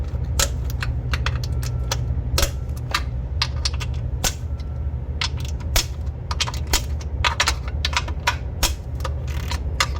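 Loosening 12 mm bolts on a 2005-2016 Honda Odyssey during knock sensor replacement, heard as a rapid run of sharp metallic clicks and ratcheting taps over a steady low engine-bay hum, close and busy throughout.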